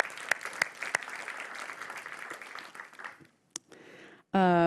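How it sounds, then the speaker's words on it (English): A conference audience claps for the chefs, a steady run of applause with a few sharp individual claps that thins out and stops, followed by a brief loud tonal burst at the end. "Let's give the chefs a round of applause"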